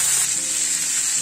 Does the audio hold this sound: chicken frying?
yes